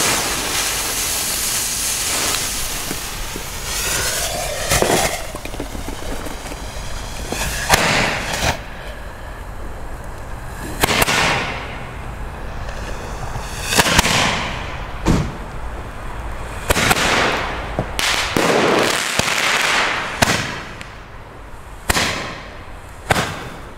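Funke Roman candle fireworks firing blue and yellow stars outdoors, a series of loud whooshing bursts and cracks at irregular intervals with hissing between shots.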